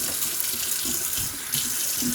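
Tap water runs steadily into a sink for soapy washing water, a close continuous hiss and splash with small gurgling shifts, no talk.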